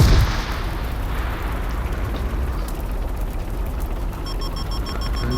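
Bomb explosions go off in a multiplayer shooting video game. The booms are loud and rumbling, with a heavy blast at the start followed by a sustained roar. A faint electronic tone comes in near the end.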